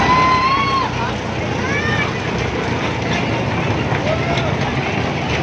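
A toy train at the National Rail Museum in Chanakyapuri rolls along with a steady rumble beneath crowd murmur, with someone talking over it.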